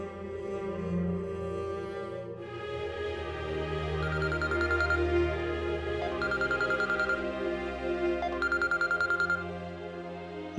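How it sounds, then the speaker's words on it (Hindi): A phone call is being placed: three evenly spaced bursts of electronic ringing tones sound fairly faintly over soft background music. "मैं आलियान को फोन करती हूँ"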